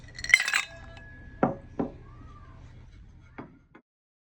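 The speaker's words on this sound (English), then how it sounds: "here we have the thermometer, insulated container, in glass with ice" Ice cubes knock against a glass container, with a few sharp, separate clinks spread over a few seconds after a brief tonal squeal at the start, heard close and clear in a quiet room with no talking.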